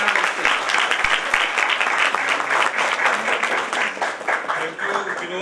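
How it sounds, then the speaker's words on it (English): A room full of people applauds steadily as a speaker is introduced at an inspirational speech competition, dense clapping sustained near and loud throughout. "Let's give a round of applause to Dr. Anurag Avasthi."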